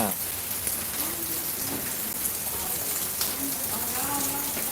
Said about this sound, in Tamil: பொள்ளாச்சியில் இப்போ வந்து மணி ஆறரை மணிக்கு மழை பேஞ்சிட்டு இருக்குது